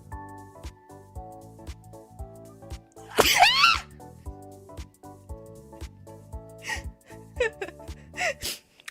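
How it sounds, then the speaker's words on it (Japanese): One sudden, loud sneeze bursts out partway through, set among quieter background sounds and a few short voiced noises. "今、くしゃみ爆発した"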